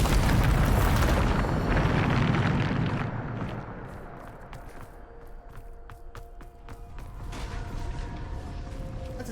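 A Bombarda spell blast in the video game Hogwarts Legacy, a loud booming explosion with a rumbling roar that fades over several seconds into quieter clicks and creaking mechanical sounds.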